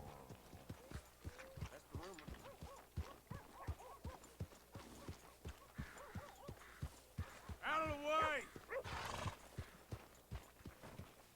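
In the video game Red Dead Redemption 2, steady clip-clop of horse hooves trots along at an even rhythm, a horse whinnies midway, and a voice shouts briefly over the hoofbeats.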